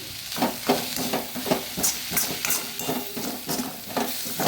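Jackfruit seed sukka with garlic stirred and frying in a pan, a steady sizzle broken by repeated scraping strokes of the spoon at a close, even pace.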